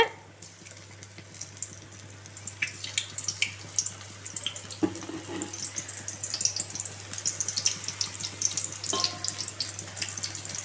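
Meal maker soya chunks deep frying in hot oil produce a continuous, even bubbling sizzle, steady and fairly close throughout with no talking.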